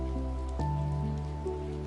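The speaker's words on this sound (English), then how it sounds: "The rain becomes softer." Soft rain falls steadily in a forest, a gentle continuous patter and hiss layered over a sustained, calm tonal drone, with no voices.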